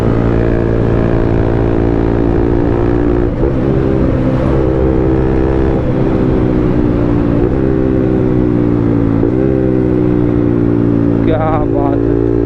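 Bajaj Pulsar NS200 motorcycle with a carbon fibre wrap, riding fast on a highway: a loud, steady engine drone with shifting pitch and wind rush, while someone talks over it.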